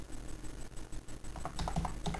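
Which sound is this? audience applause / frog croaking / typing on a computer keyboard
typing on a computer keyboard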